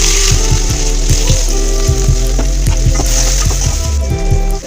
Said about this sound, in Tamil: கடுகு வெடிச்சதும் வெங்காயத்தை போடணும்.